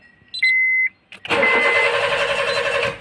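A Honda Jazz engine cranks under the starter without catching, a steady churning burst lasting a couple of seconds after a few short dashboard chimes.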